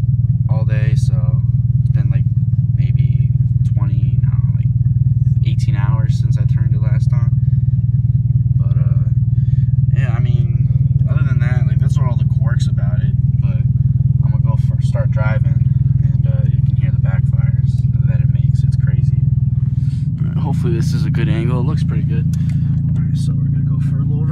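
A car engine runs at a steady, loud idle with a constant low drone, while a person talks over it and a few clicks and clatters sound.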